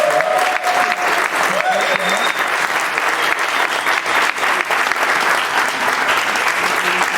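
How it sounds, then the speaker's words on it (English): A press conference audience at Eurovision 2019 gives a big round of applause for a guest, dense and loud clapping that holds steady from start to finish with faint voices mixed in. "I would like everyone to give a big round of applause for Emily."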